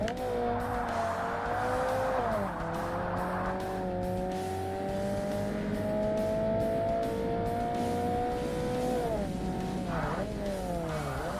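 Very light stock cars race in Forza Motorsport on Xbox (2005): a loud, continuous engine whine rises and falls with gear shifts, with tire squeal throughout and no talking.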